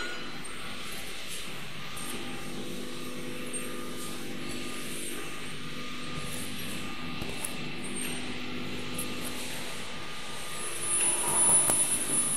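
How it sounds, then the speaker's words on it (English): A 1+1 servo motor face mask production machine runs in a test, giving a steady, even mechanical whir and drone at constant level throughout, with no talking. "This is a 1+1 servo motor face mask machine. We are testing."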